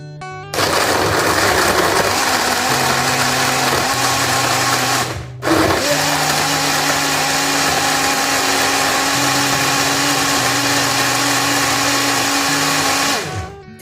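A blender grinds a strawberry and banana smoothie with milk in a loud, continuous whir, cutting out for a moment midway before resuming at full power and then stopping.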